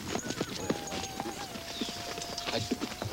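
Horses' hooves clip-clop in a steady, fairly close rhythm at a riding stable, with people talking and a faint whinny-like tone running underneath.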